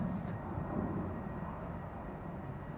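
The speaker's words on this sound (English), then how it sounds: "This one to New York, JFK A330neo." Airbus A330neo airliner at Schiphol Airport, heard as a faint, steady broadband engine rumble at a distance, even and continuous with no voices.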